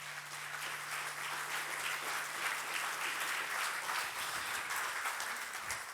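A church congregation applauding during a French-language worship celebration, steady dense clapping sustained throughout at moderate distance, with no voices over it.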